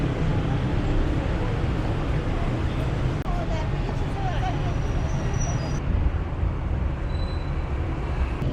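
Busy Tehran street traffic, with buses and motorcycles passing in a dense, continuous roar of engines and road noise, close and steady throughout, while a voice talks over it.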